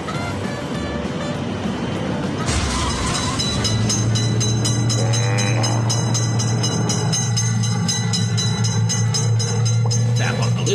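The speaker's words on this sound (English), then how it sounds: "Train is in sight. Quick, train is noticed." Train rolling through a railroad crossing in a mobile train simulator game: loud continuous rumble and clatter with a sustained low drone, and bursts of game music and effects over it.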